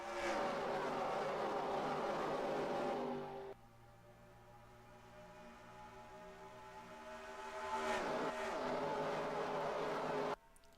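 NASCAR Racing 2003 stock cars racing at Indianapolis in a video game, with loud engine roars sweeping past in two close bursts and a quieter, lower drone of engines between them.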